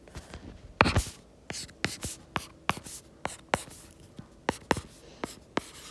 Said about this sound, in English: I'm going to go ahead and write that underneath the other equation.